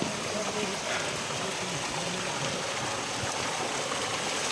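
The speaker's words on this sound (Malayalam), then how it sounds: "നമുക്കിവിടെ വെള്ളം വീഴുന്നൊരു സ്ഥലമുണ്ട്, അരുവിയാണ് ഇത്." Mountain stream water channelled through a pipe in Bhutan, a steady loud rushing and splashing flow filling the scene without pause.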